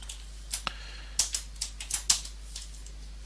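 Someone types code for a basic keylogger on a computer keyboard, making sparse, irregular clicking keystrokes that are close but faint over a low steady hum.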